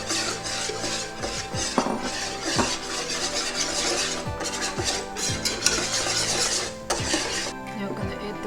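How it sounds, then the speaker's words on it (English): A utensil stirs orange chicken sauce in a pan, scraping and clinking against the metal in repeated strokes over a soft sizzle, close and loud. "Keep stirring until sauce is thickened."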